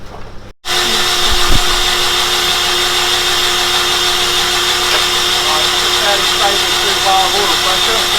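A turbocharged Mazda MX-5 Miata engine spins over on a jump-start boost from another car. After a brief quiet start, a loud, steady mechanical whirr sets in and drones on unbroken, close up.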